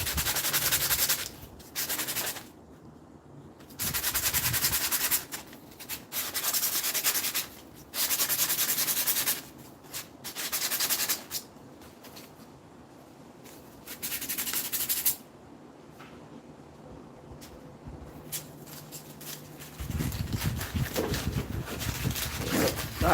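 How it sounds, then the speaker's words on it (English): Sanding the edge of a handmade mask produces repeated bursts of rough abrasive rubbing, each lasting a couple of seconds with pauses between, close and fairly loud, ending in a longer, heavier stretch of sanding. "I always gotta sand down that edge as well"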